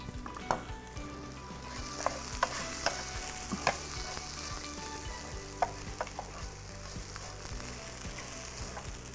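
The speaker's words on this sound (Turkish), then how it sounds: "Bence pirincim yeterince kavruldu." Rice roasting in a pan gives a steady, close sizzle, broken by occasional clicks and scrapes of a spoon stirring it against the metal.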